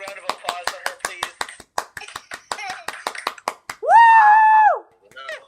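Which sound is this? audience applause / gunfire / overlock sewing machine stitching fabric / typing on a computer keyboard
audience applause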